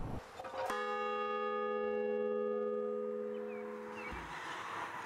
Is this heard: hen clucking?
no